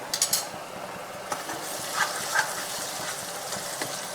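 Red onion frying in a pan with turmeric, coriander powder and salt in a home kitchen in India, a steady close sizzle with a few light clinks of a utensil near the start and no speech.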